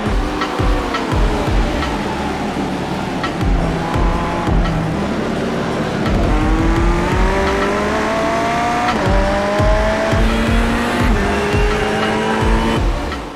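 Race cars in a video game crowd into turn 1 on the opening lap at Virginia International Raceway, engines roaring loud and continuous with rising and falling pitch as drivers shift, and tires squealing through the corner.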